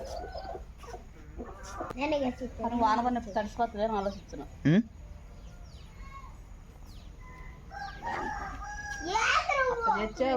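Chickens of various sizes cluck and a rooster crows nearby, the calls rising and falling in bursts, with people talking among them.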